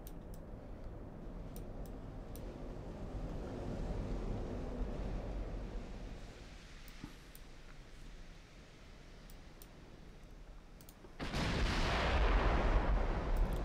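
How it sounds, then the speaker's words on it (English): Naval gunfire from big warship guns, including 17-inch guns, in the naval battle game Ultimate Admiral: Dreadnoughts, with a low rumbling battle bed that swells into a loud, sustained blast near the end. "It was a 17-inch gun, so we know he's got 17-inch guns."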